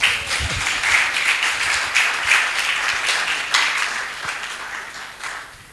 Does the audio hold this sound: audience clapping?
yes